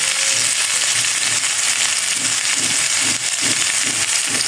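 Potato pieces and green chillies frying in hot oil in a pan, a loud, continuous close sizzle with faint crackles and a few soft stirring knocks underneath.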